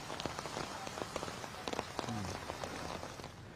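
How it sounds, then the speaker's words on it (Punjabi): Heavy rain pattering on a surface in Chandigarh and Mohali, Punjab, with scattered louder drops and splashes standing out over a constant wash of noise. "ਬਾਰਿਸ਼ ਜਿਹੜੀ ਉਹ ਇੱਕਦਮ ਤੇਜ਼ ਹੋਈ"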